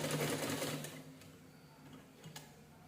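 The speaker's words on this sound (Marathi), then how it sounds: "त्याच्याने शिलाई करून घेऊया आपण" A sewing machine stitching fabric runs in a quick, steady mechanical whir for about a second, then fades to a quieter hum with a few light clicks.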